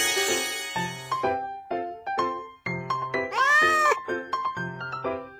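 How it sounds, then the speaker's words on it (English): Above a bouncy rhythmic background, a cartoon cat gives a single drawn-out meow that is clear and close. "Cat."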